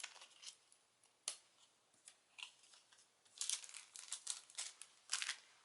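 Plastic being cut off a faceted gem embellishment with scissors: faint, close snips and small crinkling clicks in an irregular scatter, growing busier toward the end, in a quiet room without talk.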